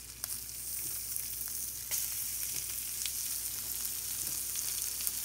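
Pieces of yellowtail snapper frying in a seasoned, blackened pan for fish tacos, a steady close crackling sizzle with scattered sharp pops and a soft spatula scrape.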